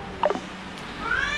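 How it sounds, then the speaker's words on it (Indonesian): A cat meows outdoors in two short bursts, a quick pair of mews followed by a longer rising cry, moderately loud over a faint background hiss. "Sorry ya kalau ada suara kucing di luar"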